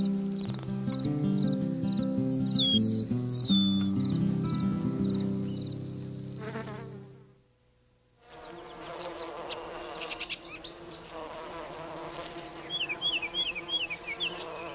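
Solitary bees buzzing in a garden, the insect drone mixed with a soft musical bed and chirping bird-like calls, dipping nearly to silence midway before the buzzing and chirps return at moderate level.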